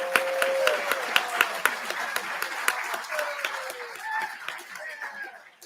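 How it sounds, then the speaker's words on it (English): Scattered clapping greets student competitors at a state contest awards ceremony, sharp individual claps over a softer crowd patter, with light chuckles and a whistling tone drifting through before the applause thins out. "let's give you all a round of applause"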